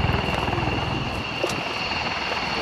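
A CV-22 Osprey tilt-rotor aircraft roars overhead at an airshow, its large rotors throbbing in a heavy, steady drone that stays loud and near throughout, with no voices.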